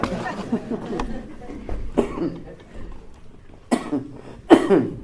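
Several short, sharp coughs spaced a second or two apart, close by, with some quiet vocal sounds between them.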